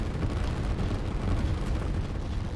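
Artillery fire explosions in the Line War strategy video game, a continuous low rumbling barrage of booms that stays loud and dense throughout, with no gaps.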